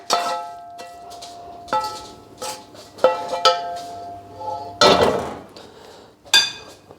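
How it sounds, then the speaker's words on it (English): Leek and bacon mix is tipped from a pan into beaten eggs with a spoon, giving several sharp, close clinks and clatters of metal against a bowl, separated by short pauses, with no one talking. "I'm going to chuck in the leek and bacon mix now"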